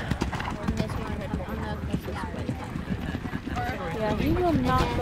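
Several horses trotting together at a horse show, a rapid uneven patter of hoofbeats throughout with nearby voices talking over it and a brief whinny toward the end.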